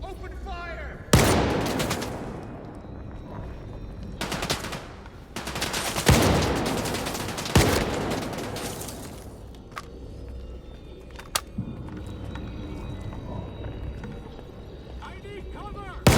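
Sharp bursts of automatic gunfire in the video game STALKER 2 Heart of Chornobyl, loud and close, spaced across the clip with quieter ambience and faint voices between volleys.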